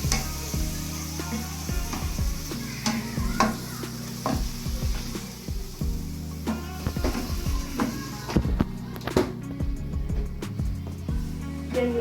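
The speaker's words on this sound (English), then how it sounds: "Actually, I will stir a little bit." Food sizzles gently in a frying pan while a utensil stirs it, tapping and scraping the pan in irregular close strokes over a soft continuous fry, with no voices.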